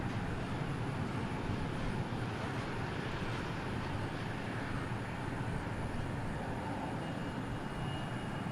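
An airliner taking off at DFW International Airport heard from a distance, a broad steady roar of jet engines with traffic-like noise, moderately faint and unbroken for several seconds, no talking.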